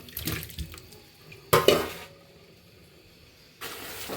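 Kitchen tap water splashing into a sink during washing up, with bursts of running water at the start, a sharp louder gush in the middle and another stream near the end, close by with quiet gaps between.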